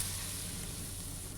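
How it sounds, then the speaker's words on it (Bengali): Jackfruit fritters frying in hot oil give a soft, continuous sizzling hiss, faint and steady throughout, with no talking. "এই যে এখন ভাজা হচ্ছে।"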